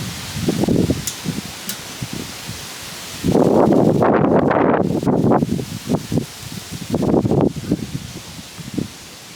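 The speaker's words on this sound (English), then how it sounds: "It gets so windy out here." Gusty wind in Denver buffets and rushes in uneven bursts, loud and close, with rustling noise swelling and fading.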